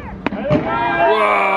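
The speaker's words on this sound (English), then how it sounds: "Whoa, fireworks." Fireworks on a Christmas outing: a couple of sharp bangs followed by a sustained crackling, whistling burst, with voices nearby.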